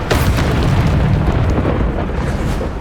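Bombarda explosion spell in Hogwarts Legacy, a dense, loud, continuous rumbling blast with crackling debris filling the whole stretch without pause.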